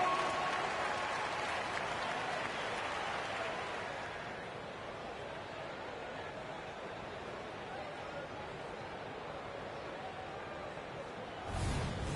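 Crowd noise fills a basketball arena during a Pistons–Orlando Magic game, a loud, steady roar of cheering and chatter that swells early, then settles into a sustained din, with a brief burst near the end.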